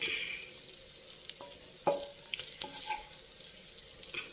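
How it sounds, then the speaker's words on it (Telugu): Raw plantain pieces frying in a pan, a steady close sizzle with a few sharp crackles and pops scattered through it, no voices. "అరటికాయ కొద్దిగా వేగాలి."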